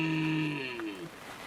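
A red deer stag roars in a misty Scottish Highland valley near a loch, one drawn-out, moo-like bellow that slides downward and fades over about a second.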